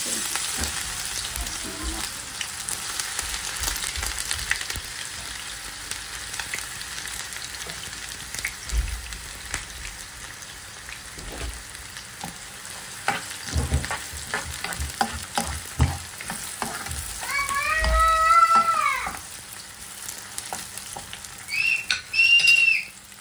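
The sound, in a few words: frying onion in oil for mixed vegetables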